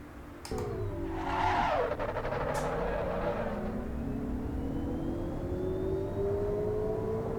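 Electric car driven in the Assetto Corsa EVO racing game, a steady whining motor hum with a rising pitch sweep as it accelerates, a brief bump near the start, continuous and fairly close.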